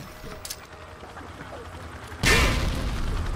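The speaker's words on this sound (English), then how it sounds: "Toss the grenade down the range to take out several targets at once." A frag grenade explodes down a firing range in Call of Duty: Modern Warfare 2, a single sudden loud blast after quieter range ambience, followed by a lingering rumbling tail.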